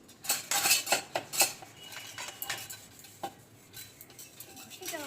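Dishes and metal utensils scrubbed by hand, with repeated clinks and scraping rattles in quick bursts at close range, easing into softer rubbing and occasional knocks.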